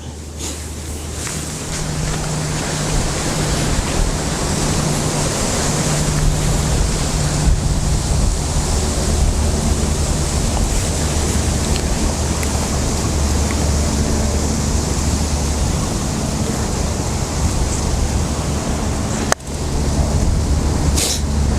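Strong wind buffets the microphone on a golf putting green during a competition round, a loud continuous roar of gusting rumble with no break, one sharp knock near the end.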